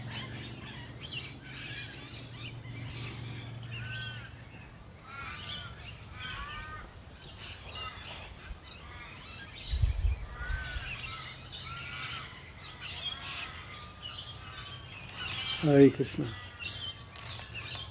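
Parrots and other birds chirp and squawk in a peaceful garden, a steady scatter of calls throughout, with a louder burst of squawks near the end; a person speaks briefly in the middle.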